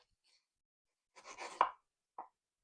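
A knife slicing along the skinny side of a mango, a short soft cutting scrape followed by a sharper cut and one brief knock, close and quiet with no talk.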